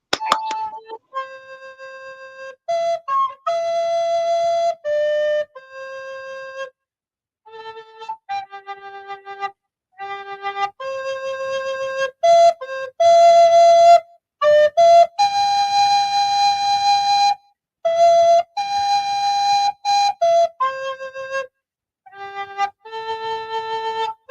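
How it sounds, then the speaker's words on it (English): An alto recorder plays a series of low, breathy notes in short phrases with brief gaps between them, clear and close, no talking. "I've also got an alto recorder, and this one's an octave lower."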